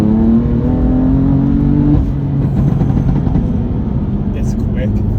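A 500 bhp stage 1 BMW M4 accelerates hard, its engine note climbing steadily before a shift around two seconds, then droning on under load, heard from inside the car.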